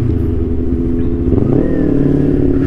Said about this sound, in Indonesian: Mobil-mobil kerennya pada pengen parkir nih.